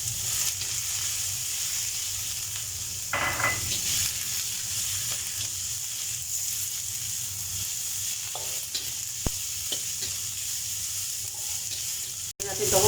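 Garlic, onion and spring onion fry in hot oil for a chicken and bean sprout stir fry, giving a continuous near sizzle with a few scraping and clattering stirs, and no speech.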